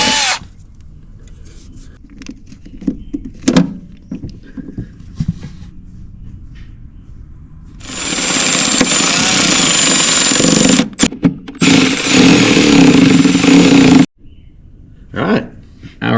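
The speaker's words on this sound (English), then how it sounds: "It's a matter of drilling the hole" A power drill bores a mounting hole for a dipstick during air ductwork installation, whirring loudly in a sustained six-second burst with short pauses, preceded by quieter handling noises and followed by brief drill spurts.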